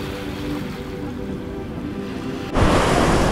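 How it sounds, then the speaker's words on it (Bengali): Sea waves wash over Guliakhali's mangrove-fringed beach in Sitakunda, a steady wind-blown roar of surf that swells suddenly louder near the end, with no voices. "ভাই, সমুদ্রের যে আওয়াজ"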